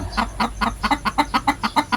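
Hybrid chickens that look like native breeds cluck in a quick, regular run of about a dozen short clucks, close by and moderately loud, with no talk over them.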